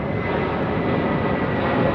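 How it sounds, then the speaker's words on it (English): An Aer Lingus Airbus A330 in old livery passes at Heathrow with a dense, even jet roar, loud and close, holding steady for the whole short stretch without any voices. "is this the Aer Lingus A330? It is, in the old livery, isn't it?"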